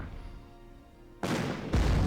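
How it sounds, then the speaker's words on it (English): An anti-tank cannon fires in the World War II strategy game Panzer Corps, two loud, sharp booms with broadband blasts close together after a low rumbling lead-in, nearby and without voices. "And finally we'll put our anti-tank cannon to work."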